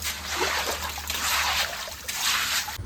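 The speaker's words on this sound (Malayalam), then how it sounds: "നമ്മൾ ലാസ്റ്റ് ഇച്ചിരി വെള്ളം ഒഴിച്ചേക്കുവാണ്" Water splashing and sloshing steadily into a freshly cleaned household water tank, a continuous close pour rinsing out the last mud and silt, with no talking.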